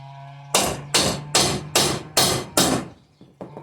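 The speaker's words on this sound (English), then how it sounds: "I gotta tap this through a little more in this tire now" A hammer taps an axle rod through a wheelbarrow tire in six loud, evenly spaced metallic blows, followed by a fainter final tap, over a low steady hum.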